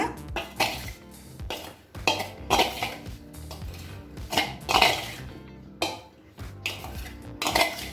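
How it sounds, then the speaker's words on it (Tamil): Boiled yam is mixed with gram flour and rice flour in a bowl, with repeated close clinks and scrapes of a utensil against the bowl in an irregular stirring rhythm. "இப்போ இதையும் நல்லா மிக்ஸ் பண்ணிக்கலாங்க"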